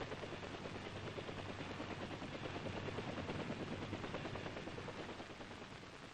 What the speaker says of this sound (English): The UH-1A armed helicopter.